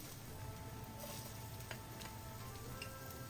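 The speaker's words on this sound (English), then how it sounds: "we fry them till fragrant or until they turn slightly golden brown" Minced garlic and ginger frying in a pan, a faint, steady sizzle with light scattered ticks and crackles, quiet and close, no talk.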